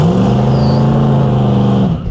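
A loud, steady engine drone holds at high revs for about two seconds before cutting off, a Chevrolet Vega drag car pulling hard down a quarter-mile strip.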